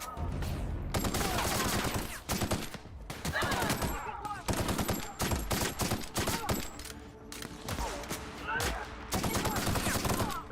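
Gunfire from a weapon in The Outer Worlds bursts in dense, rapid volleys, loud and close, broken by short gaps and repeated across the stretch, with talk mixed in.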